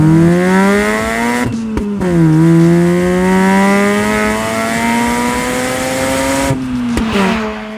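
A Mazda RX-8 rotary engine revs loudly and continuously nearby, its pitch rising and dipping with the throttle, with short breaks between shifts.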